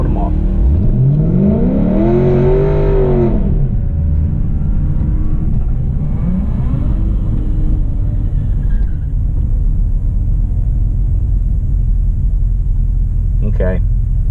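A 2017 Chevy SS with Kooks headers, Rotofab intake and a tune revs hard and launches down a quarter-mile drag strip, with a loud rising engine sweep, then a steady heavy rumble fading as the car pulls away.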